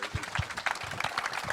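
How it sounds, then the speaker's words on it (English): A faint, brief round of applause from a crowd at a daily briefing, with soft scattered claps over about a second and a half. "Big round of applause to Jimmy."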